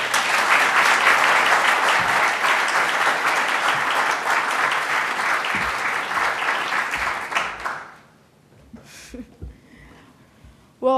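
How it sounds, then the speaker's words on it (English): Warm audience applause at an education event welcoming a speaker, a loud, full burst of many people clapping that holds steady, then fades out to near silence with a few small stray sounds. "Please join me in welcoming with a warm round of applause, Josniel Martinez."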